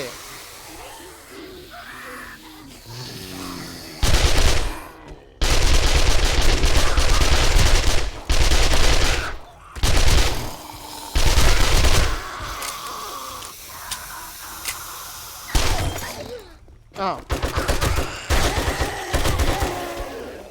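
Loud bursts of rapid automatic gunfire from a weapon in the survival game 7 Days to Die, in a hospital, come in several long sustained volleys separated by brief pauses, close and harsh, with a quieter stretch of game ambience before the shooting.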